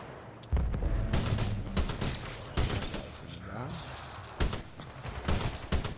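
Rapid gunfire bursts in Titanfall 2 crack repeatedly across the clip, loud and close, with the game's ambient sound between the volleys and a brief stretch of background voice.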